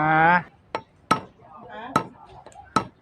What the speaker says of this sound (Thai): เดี๋ยว เราก็จะค้อนตอกนะค้อนตอกออกมา